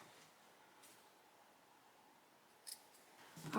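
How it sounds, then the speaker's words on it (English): Small scissors snip loose thread tails on a pieced Card Trick quilt block, giving a few quiet, close clicks and cuts spaced apart, with a louder snip cluster near the end over a faint room hush. "we will just take our little scissors"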